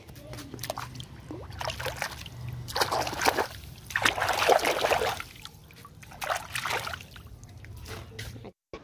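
Collected garden seeds are rinsed with water, giving intermittent close splashes and trickling sloshes that rise and fall over several seconds, then stop.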